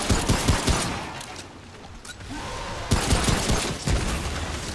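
Loud bursts and blasts from a kamikaze enemy exploding in the shooter game Remnant: From the Ashes, mixed with rapid gunfire, several sharp impacts close up in a busy combat mix.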